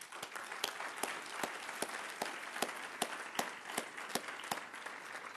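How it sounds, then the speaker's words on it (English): An audience at a corporate reputation management program applauds the program sponsor, with steady, dense clapping throughout and a few sharp, close individual claps standing out. "would you join me briefly in a round of applause for Edelman?"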